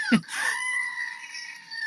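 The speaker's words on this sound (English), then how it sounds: "That's Gerald, my screaming goat." A goat lets out a loud, close, strained scream that rises and then holds as a long wavering cry, sounding almost human, with no talk over it.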